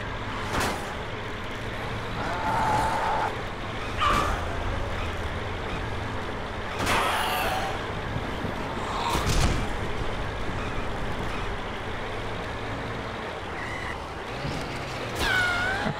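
A heavy armored truck drives in the video game Dead Island, a steady low engine rumble broken by sharp hissing bursts and clanks at intervals, with faint whining tones.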